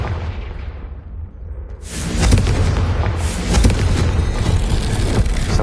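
A Confringo fire spell bursts in the Hogwarts Legacy video game: after a quiet stretch, a loud booming blast erupts and rolls into sustained crackling, rumbling noise that lasts several seconds.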